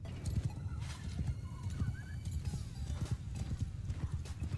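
Cavalry horses in the Bannerlord video game, a steady patter of many hooves clip-clopping with a couple of whinnies rising over the galloping, moderately loud with faint game ambience beneath.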